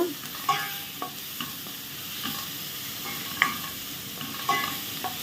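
Prawns frying in ghee for a Mangalore-style ghee roast, a soft, steady sizzle under repeated sharp clinks and scrapes of stirring against the pan, fairly quiet and close.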